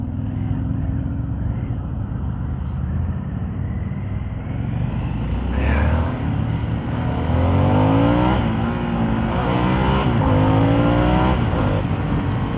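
A 2023 Harley-Davidson Sportster S motorcycle revs and accelerates hard, its engine note climbing through rising sweeps close by and growing louder over a steady rumbling base, with no talking.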